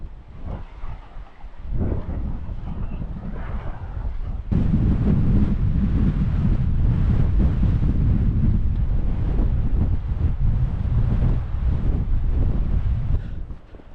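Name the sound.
strong coastal wind blowing on microphone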